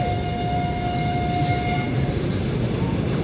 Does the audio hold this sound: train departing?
yes